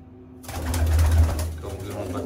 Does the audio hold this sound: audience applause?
no